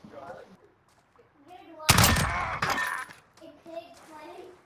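Burst of gunfire from a first-person team shooter, a loud dense volley lasting about a second and a half in the middle, with players talking over game noise before and after.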